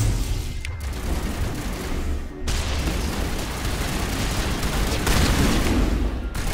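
Sniper and rifle gunfire in a sci-fi squad shooter battle, with sharp cracks and booming shots over a dense, constant din of combat noise and explosions.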